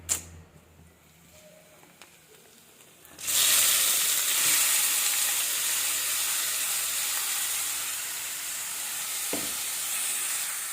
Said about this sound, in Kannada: ಸ್ವಲ್ಪ ಎಣ್ಣೆ ಹಾಕಿದ್ದೀನಿ ಹಾಗೆ ಸಾಸಿವೆ ಜೀರಿಗೆ ಶುಂಠಿ ಬೆಳ್ಳುಳ್ಳಿ